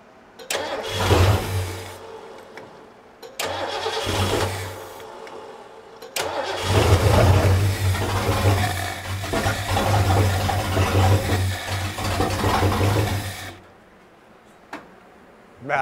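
A 1972 Ford Galaxie 500 station wagon, sitting unused for 20 years, cranks in several short bursts before catching and running roughly for several seconds, then cuts out, with brief voices nearby.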